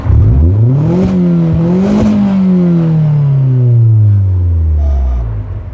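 A Boost Bus family car's engine revs loudly and close, its pitch rising, dipping and then sliding down in a long smooth sweep, heard alone with no talk.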